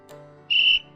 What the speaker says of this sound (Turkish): Bakın düdük sesi de geliyor. Çünkü kural hatası.